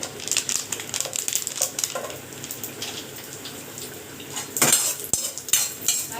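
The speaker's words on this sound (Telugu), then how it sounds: "సో కిస్మిస్లు కూడా వేసుకొని నీట్గా ఫ్రై చేసేసుకోవాలి" Cashews and raisins fry in a pan for rava laddu while a metal spoon clinks and scrapes against the vessel in uneven bursts, with a louder clatter near the end and no voices.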